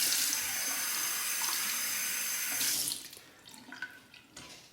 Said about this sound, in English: So let's fill up my cup with some hot water.